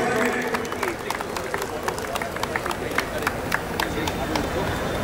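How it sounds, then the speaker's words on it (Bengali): A live concert crowd in Medinipur claps for an award presentation on stage, steady dense applause lasting the whole stretch with sharper individual claps popping above the wash. "একটা জোরে হাততালি হোক সবাই মিলে।"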